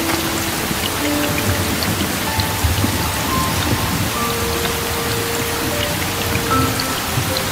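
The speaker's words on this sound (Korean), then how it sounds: "소나기예요." Steady rain shower falling outdoors, a dense continuous hiss of drops on surfaces with faint distant thunder rumbling underneath, no voices.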